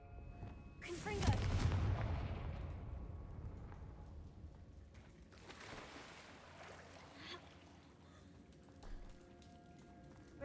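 Confringo fire spell blast in Hogwarts Legacy, a single heavy booming burst with a long rumbling decay, followed later by a softer second whoosh.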